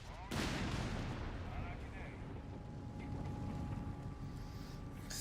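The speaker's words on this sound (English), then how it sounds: "P4's destroying the mortar pits on the other side" A Panzer IV tank destroys mortar pits in Company of Heroes 3. A sharp, loud blast opens the scene, then a rumbling explosive and battle background continues beneath a commentator's talk.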